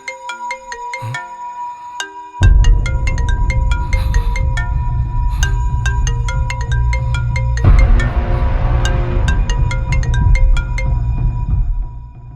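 A phone ringtone plays loudly and continuously, a repeating electronic melody that fills the whole stretch with no voices.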